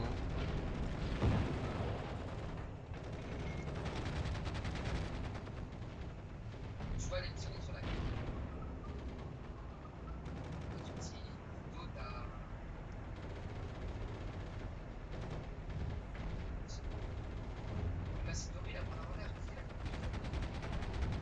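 Gunfire and explosions crackle through a war video game battle featuring allied tanks and infantry, a dense continuous din of shots and blasts with someone talking over it.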